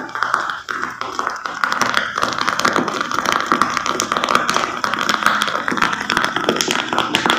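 Manganese heptoxide (Mn2O7) reacting with a bandage dropped into it, a continuous close crackling and popping with rapid irregular ticks that stays loud throughout.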